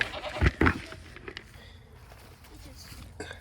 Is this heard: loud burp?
no